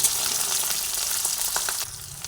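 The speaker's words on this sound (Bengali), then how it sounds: "গ্যাসের ফ্লেমটা মিডিয়ামে রেখে ক্যাপসিকামটাকে ভেজে নিচ্ছি" Capsicum frying in a pan over a medium gas flame gives a steady, close, hissing sizzle with light crackles throughout, and no talking.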